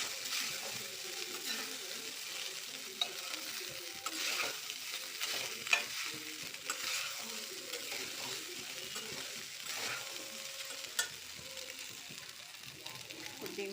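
Curry being stirred and mixed in a pan, with a steady scraping, sloshing texture and soft sizzle continuing throughout, close and moderately loud, no talking.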